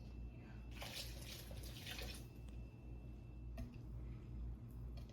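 Hot coffee pours into chocolate bundt cake batter in the kitchen, a close, continuous liquid stream with splashy surges early on, then quieter trickling and a few small clinks, with no speech.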